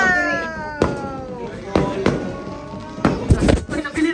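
Several fireworks bursts crack and thump at irregular intervals over a steady background of crowd noise and talking, with a cluster of sharper pops near the end, heard at Shangri-La Mactan in Cebu.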